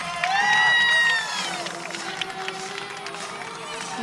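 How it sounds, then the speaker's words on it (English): A crowd cheers at a college women's gymnastics meet, with a loud swell of voices and whistles that fades into a steady murmur of spectators and a busy arena. "You might have heard a little bit of cheering because Marielle's score was just posted"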